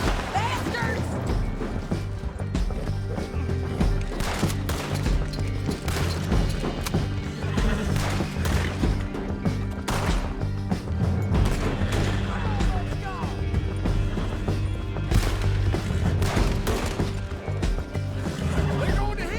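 Riders firing guns in Red Dead Redemption 2, heard as scattered cracks and thuds mixed into a loud, continuous chase scene with hoofbeats and other game noise, while a voice talks over it.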